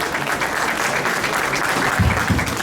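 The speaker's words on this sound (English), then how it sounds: "So please give him a big round of applause" An audience at an India Independence Day celebration in Milton, Ontario breaks into sustained applause, a dense, steady wash of clapping throughout, with a few louder close claps near the end.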